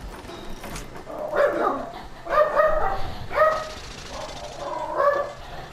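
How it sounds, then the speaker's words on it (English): Several dogs bark indoors as a postman arrives, in four loud, close bursts spaced about a second apart, with no talking. "the dogs are barking"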